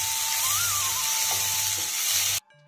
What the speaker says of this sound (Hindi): दो बड़े टमाटर डालेंगे और जब तक प्याज और टमाटर हल्के से गल ना जाए, तब तक हमको इसको पकाना है